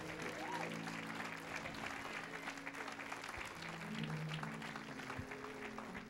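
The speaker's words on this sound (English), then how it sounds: "Clap to the Lord one time." A church congregation claps together during a Sunday worship service. The dense clapping runs steadily under sustained organ or keyboard tones and faint voices, at moderate volume throughout.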